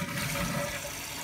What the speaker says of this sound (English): I'm gonna flush the toilet